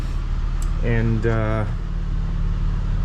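A Chevy Impala engine hums steadily at a low idle in an echoey garage, continuous and moderately loud, with someone briefly talking over it.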